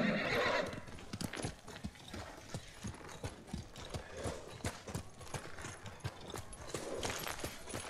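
In the video game Ghost of Tsushima, a horse whinnies loudly at the start, then hooves clip-clop in a steady, close rhythm, with a brief second neigh near the end.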